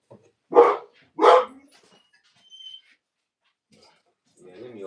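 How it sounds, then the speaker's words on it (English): A small dog barks twice in quick succession, loud and close, followed by a faint yip and a brief whimper-like sound, with a voice murmuring near the end. "He barks at any little thing."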